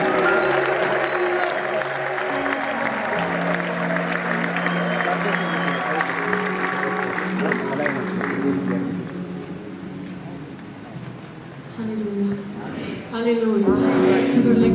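A congregation claps at a Pentecost worship celebration held at the Adwa Victory Memorial Museum. The applause is steady and loud for the whole stretch, mixed with crowd noise and a voice talking over it, and it swells again near the end.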